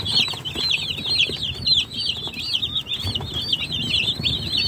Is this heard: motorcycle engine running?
no